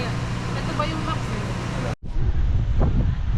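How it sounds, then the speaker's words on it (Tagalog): Strong wind sweeps across a fine-sand beach at Camaya Coast, a dense, steady roar buffeting the microphone, broken by a brief dropout partway through before the gusting resumes just as loud. "So, malakas din ang hangin dito mga lodi."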